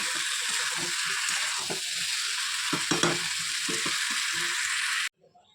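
Curry being sautéed and fried in a pan in a home kitchen sizzles steadily, with intermittent scraping and stirring clatters of the spoon against the pan, before the sound cuts off near the end.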